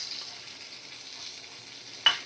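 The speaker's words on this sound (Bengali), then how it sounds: "আমি উল্টে পাল্টে অন্য সাইডটা ভালো করে ভাজা করে নেব" Pointed gourd slices fry in oil in a pan, a steady close sizzle and crackle throughout, ending in one sharp scrape or clink from the utensil.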